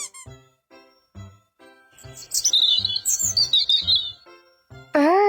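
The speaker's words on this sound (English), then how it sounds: "B-I-R-D, bird." A few quick bird chirps and tweets over a light, bouncy melody of plucked tones in a children's animal-sounds piece. A louder note closes the passage.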